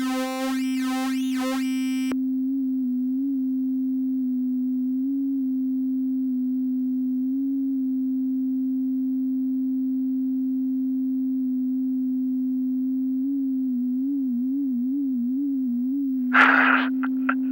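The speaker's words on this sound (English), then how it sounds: "It's like a sine wave revving its engine." A steady, pure synthesizer sine tone holds for a long stretch, with occasional small wobbles in pitch and a brief buzzy burst near the end.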